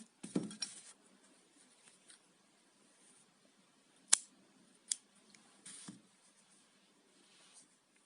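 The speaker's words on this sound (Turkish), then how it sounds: "Şimdi ipimi kesiyorum." Scissors snip yarn during crochet work on a bag handle, a few quiet, sharp cuts separated by pauses, close to the microphone in an otherwise silent room.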